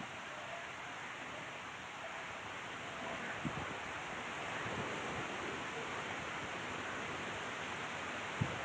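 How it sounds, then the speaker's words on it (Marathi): A flooded river runs full and fast after heavy rain, its steady broadband roar continuous and fairly faint as if heard from the bank, with an occasional small knock and no talking. "नदीचं पात्र सध्या दुथडी भरून वाहत आहे"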